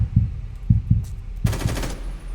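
Gunfire from a new gun in the Minecraft zombie apocalypse game, with a few single low thumping shots followed by a dense, louder burst of rapid fire that cuts off abruptly.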